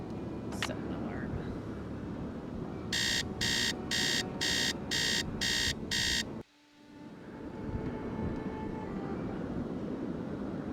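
An alarm clock in a Nancy Drew video game rings in seven rapid, evenly spaced electronic bursts, loud over a steady room hum, then cuts off abruptly into near silence before the ambience slowly returns.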